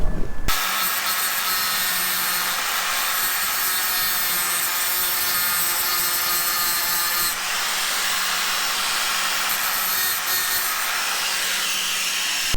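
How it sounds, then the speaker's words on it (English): A grinder runs continuously up close, grinding a bit off the bottom of an old door hinge. The harsh, abrasive rasp holds steady for over twelve seconds, with slight shifts in pitch as the tool presses against the metal. No speech. "it says that I have to grind this little bit off the bottom of the old hinge"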